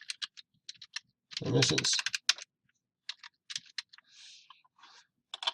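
Quick, light keystrokes on a computer keyboard in short irregular bursts, close and crisp in a quiet room, with a brief spoken word mixed in.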